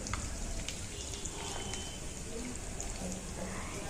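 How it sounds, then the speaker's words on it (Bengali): Large spoonfuls of egg mixture fry in mustard oil in a pan, giving a steady, even sizzle and crackle throughout, close and moderately quiet with no voices. "দেখুন এইভাবে লাল লাল করে ভেজে সবগুলোকে আমরা তুলে নেব"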